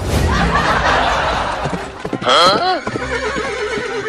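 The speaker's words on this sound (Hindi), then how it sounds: "ये घोड़ा मेरे कहने से भी नहीं रुक रहा बकुआ।" A cartoon horse lets out a loud, wavering whinny amid quick clip-clopping hooves, with background commotion and a short chuckle-like sound close by.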